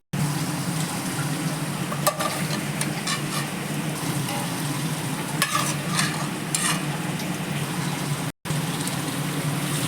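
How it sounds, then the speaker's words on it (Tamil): Mutton pieces sizzling and being stirred in hot oil in a pan for biryani, a steady close frying crackle with scraping stir sounds throughout and no talking. "எண்ணெயிலேயே கறியை ஒரு 5லேருந்து 10 நிமிஷம் நல்லா வதக்கி விட்டுருவோம்"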